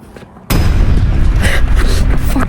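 A firecracker banger bursts outdoors on New Year's Eve with a sudden loud boom after a quiet moment, followed by a dense, rumbling wash of noise that lingers to the end.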